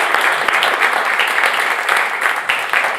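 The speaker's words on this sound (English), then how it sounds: "How about one more round of applause for Ashton Browne" Studio audience at a live Blue Plate Special radio show applauding the performers, a dense patter of claps from a small crowd, steady and fairly close throughout.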